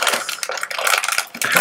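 A mailing envelope being torn open by hand, a close, ragged rip of paper in several uneven bursts with crinkling between them.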